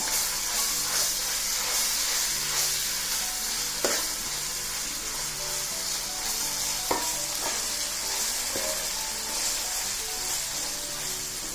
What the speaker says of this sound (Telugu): ఒక స్పూనున్నర వేస్తున్నానండి అల్లం వెల్లుల్లి పేస్టు. దాన్ని కూడా దోరగా వేగనిద్దాం.